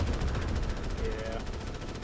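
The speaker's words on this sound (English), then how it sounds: "Like someone's gun's stuck on." Sustained automatic weapon fire rattles without pause in the Starship Troopers: Extermination shooter, a dense continuous barrage that stays loud and steady for the whole stretch.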